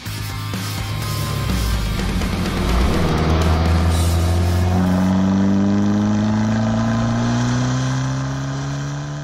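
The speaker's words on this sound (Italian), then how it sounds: "Se il rombo del motore spinge automaticamente i passanti a voltarsi verso la nostra 595 Competizione ad ogni accelerata" Abarth 595 Competizione engine roaring under acceleration, loud and close, with its pitch climbing steadily through a long pull and easing off near the end, with no voices.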